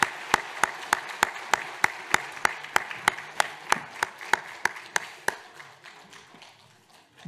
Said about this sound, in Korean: 우리 박수 한번 다시 부탁합니다